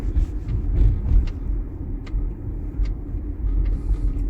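A Hyundai Genesis with an intermittent stalling fault driving slowly around the block, heard from inside as a steady low engine and road rumble with faint ticks and clicks over it.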